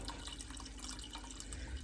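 Water pours from a jug into a pan on the stove, a steady soft splashing and trickling stream heard close and continuous, with no talk.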